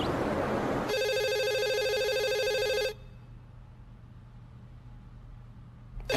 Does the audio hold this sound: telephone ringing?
yes